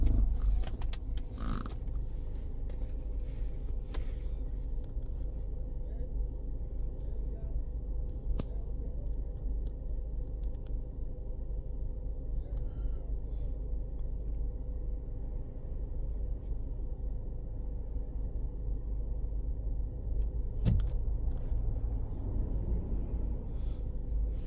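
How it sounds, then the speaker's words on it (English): A Ford Escape engine runs with a hesitation, giving a steady, close, low mechanical rumble and hum with a few faint clicks and creaks and no voices. "You see the car have some hesitation"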